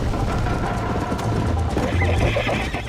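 Horse hooves galloping in a fast rhythm alongside repeated neighs and whinnies, loud and close, with synthetic game-like tones underneath, from the video game Red Dead Redemption.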